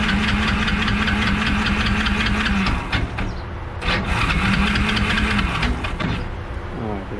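Kawasaki KLF 300 ATV engine cranking and sputtering on choke, a loud, steady knocking rumble that dips briefly a couple of times before catching again, with no talk over it.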